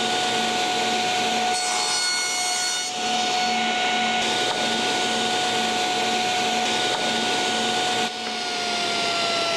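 A table saw blade cuts through a wooden board fed with a miter gauge, giving a loud, steady whine with a rasping rise while the wood passes the blade, alone and close.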